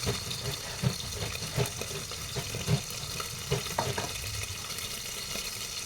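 Corned beef fries in a pan with a steady close sizzle, and a utensil stirring it knocks against the pan several times at irregular moments.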